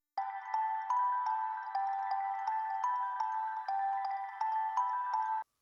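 A soft, repeating kalimba pattern of bright plucked notes in a steady rhythm, quiet and alone.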